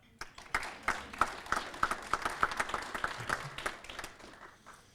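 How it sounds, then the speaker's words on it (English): At a county budget meeting, a small group of attendees claps, giving a short burst of distinct, fairly close claps that rise and then taper off over about five seconds. "How about a round of applause for Scott?"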